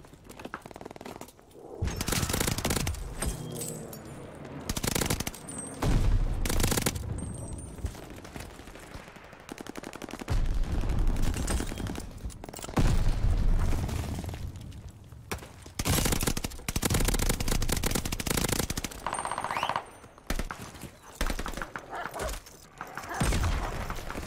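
Repeated loud bursts from the Automaton rifle in Call of Duty Vanguard, with rapid automatic volleys broken by brief gaps, scattered booms and impacts, and steady in-game battle noise throughout.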